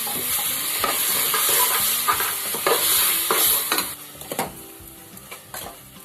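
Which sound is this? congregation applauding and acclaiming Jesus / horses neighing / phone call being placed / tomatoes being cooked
tomatoes being cooked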